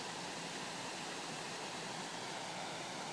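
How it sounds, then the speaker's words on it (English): Waterfall in northeastern Pennsylvania, a steady broadband roar of rushing water that stays constant and fairly close throughout, with no voices over it. "There's the waterfall."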